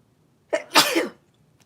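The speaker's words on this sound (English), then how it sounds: "Excuse me, I have to sneeze here." A single close sneeze: a short sharp intake followed by a forceful burst, alone in a quiet room.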